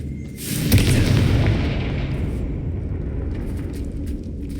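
A Confringo fire spell explodes in Hogwarts Legacy, a heavy booming blast with a sharp onset that settles into a long, loud rumbling roar.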